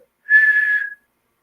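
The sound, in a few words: person imitating a monotone whistle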